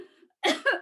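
On stage during an amateur community theatre production of Pride and Prejudice, an actress gives a short, close cough in two quick bursts after a faint breath.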